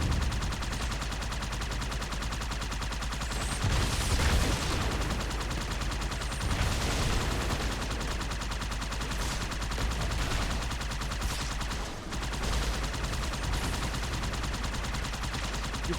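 Gunfire from Jackal snipers in the Halo 2 video game, steady dense shooting and sharp cracks filling a loud battle soundscape, continuous throughout with a few louder bursts.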